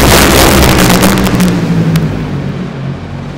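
A top fuel drag racing car makes its run, producing a loud, roaring engine blast that fades as the car pulls away into the distance.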